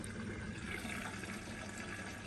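A Zanussi Lindo 100 washing machine fills with water, a quiet, steady rushing hiss that runs unbroken throughout.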